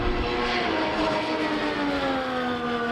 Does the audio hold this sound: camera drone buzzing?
yes